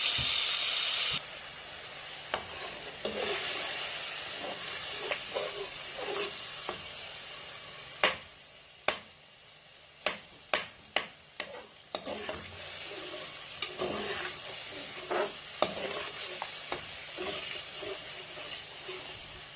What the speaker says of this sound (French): je viens mettre le mélange de tous les ingrédients dans l'huile